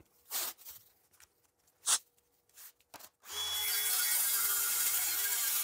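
A saw cuts through plywood with and without painter's tape, a loud, steady, broadband cutting roar that follows a few separate scrapes and knocks.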